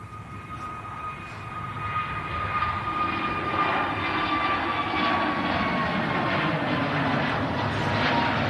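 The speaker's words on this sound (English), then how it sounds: "EasyJet on the way out to Sharm el-Sheikh." An EasyJet airliner heads out for Sharm el-Sheikh, its engine roar building steadily and staying loud and broad throughout, with a faint whine running above the rumble and no voices.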